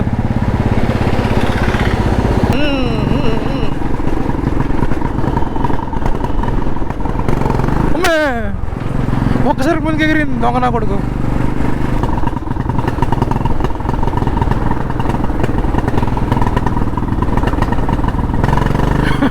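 A Royal Enfield Classic 350 motorcycle with water trapped near the engine runs continuously up close, a loud steady thumping drone with some clatter, while someone talks briefly over it.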